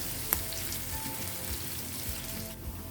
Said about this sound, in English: Saute until the dals begin to colorize